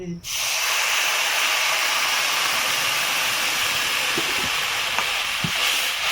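Steady, loud sizzling of vermicelli frying in a hot pan, with a few light stirring clinks near the end.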